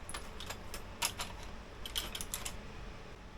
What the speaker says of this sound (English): So I'm going to clean the old cut paste off with my knife